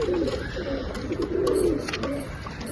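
A large pigeon coos inside a loft, a low, rolling, repeated throaty murmur close by, with soft rustling and faint chirps around it.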